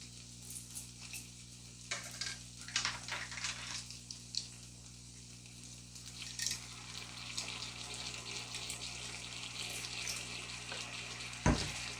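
Baked beans sauce with salt is stirred in a pot, giving soft scraping and liquid swishing that comes and goes over a steady low hum, with a louder clink near the end.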